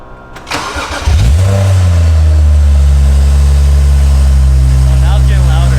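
A BMW 135i fitted with a 1M exhaust cold-starts: a brief cranking burst, then the engine catches with a loud flare and settles into a deep, steady, booming idle close by.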